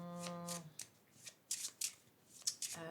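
Rune cards riffle and snap in quick bursts as they are shuffled and drawn, close and fairly quiet, with a short stretch of voice at the start and end.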